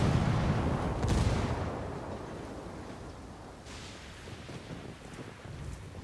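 Frag grenade blast in the video game Ghost Wars, heard as a muffled boom with a sharp crack near the start, then fading rumble and a second distant crack, with wind-like noise underneath and no talk.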